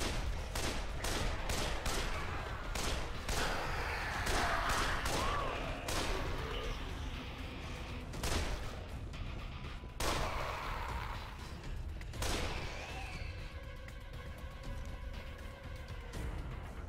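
Gunfire in Dead Island, repeated sharp shots fired in quick succession with short pauses between bursts, loud and close over a busy game backdrop.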